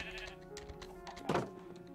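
Sheep bleat in the video game Forever Stranded, a faint bleat early on and then one clear, louder bleat in the middle of the clip, with soft game ambience around it.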